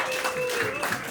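Audience applause at a roast battle comedy show in New York, a steady, dense wash of clapping that holds evenly throughout the short moment with no voices breaking through.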